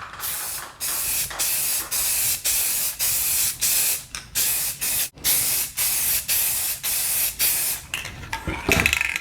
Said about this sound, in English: the next step is to spray both panels silver and then let it dry